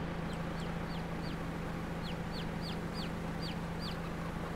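Chickens in the Farming Simulator 22 farming game cluck in a steady series of short repeated calls over a constant low engine drone, moderately loud with no talking.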